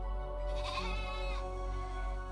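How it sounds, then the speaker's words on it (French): Sheep (ewes) bleat in a cave, a long wavering cry that swells twice over a steady low drone. "Elles ne cessent de bêler,"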